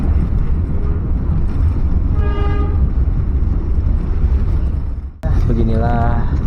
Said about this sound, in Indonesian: kereta paling malam dari Kediri ke Blitar